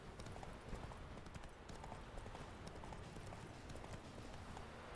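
A horse trots in Witcher 3: The Wild Hunt, its hooves giving soft, repeated clip-clops that run steadily under a wash of quiet environmental noise, faint and far off with no talking.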